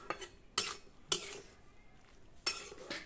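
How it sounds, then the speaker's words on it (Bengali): Spinach curry with potatoes gets stirred in a pot with a metal utensil, giving three sharp clanks spaced about a second apart, close and moderately loud against a quiet background, with a brief hint of a voice. "এরপর আমি এটা ভালো করে নেড়ে আরো ঢাকা দিয়ে দেবো।"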